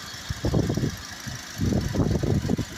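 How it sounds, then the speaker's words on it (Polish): A petrol car engine idles smoothly and quietly under the open bonnet, a low even rumble that swells in two close bursts. "Praca silnika. Benzynka bardzo równo pracuje."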